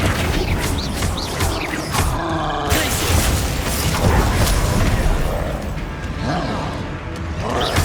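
A Flipendo spell strikes in the video game Hogwarts Legacy, with a loud whooshing impact and crashing, creaking clatter among dense game effects, and a voice shouting in it.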